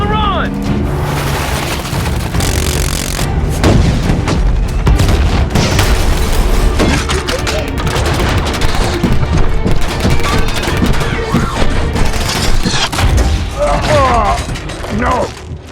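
Missile explosions and gunfire in a Transformers: Age of Extinction movie battle scene, heavy booms and rattling blasts rolling continuously at loud, dense volume beneath shouted commands.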